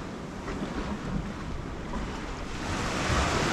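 Waves wash onto a beach in Greece with a continuous roar of surf, loud and close, with wind buffeting the microphone and the sound swelling slightly toward the end.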